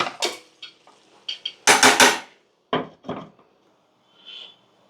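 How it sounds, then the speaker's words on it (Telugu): Metal clatter of a pot lid being set on a cooking pot of chicken curry with frying ginger-garlic paste, a few sharp knocks and scrapes in separate bursts, close and fairly loud with no talk. "మూత పెట్టుకుందాం ఒక నిమిషం"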